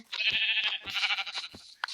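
A Minecraft goat bleats in a few quick, nasal, wavering calls in succession, loud and close, with short gaps between them and no talk over it.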